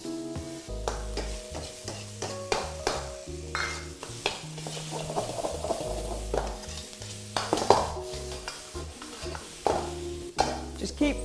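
Edamame and vegetables sizzle in a very hot, dry pan with no oil as a utensil stirs and scrapes, producing repeated clattering strokes over a steady hiss, while a person talks now and then.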